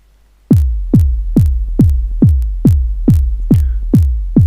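A deep, booming 808 electronic kick drum sample hits nine times at a steady tempo, each long decaying thump carrying a faint clicky distortion artifact.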